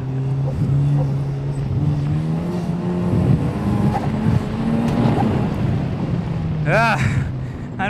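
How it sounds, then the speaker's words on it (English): Turbocharged Exocet track car engine on a racing circuit, held loud and steady near the rev limiter with a continuous harsh drone and rapid stutter, a brief high sweeping whine near the end, with talk over it. "I'm gonna just go right off the rev limiter this time and not even try to shift."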